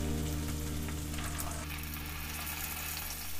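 Onion paste with ginger-garlic paste sizzles steadily in hot oil for a Bengali fish rezala, a dense, continuous close frying hiss with light stirring scrapes.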